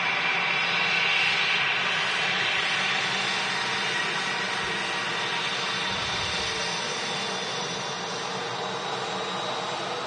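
A Boeing 787 Dreamliner taxis and turns at Manchester Airport, giving a steady broadband engine hiss and rumble at moderate level that holds evenly throughout, with no talk.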